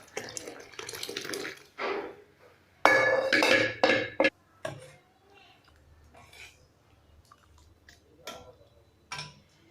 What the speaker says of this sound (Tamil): இப்போ சூப்பை நம்ம பவுலுக்கு மாற்றிக்கலாம்.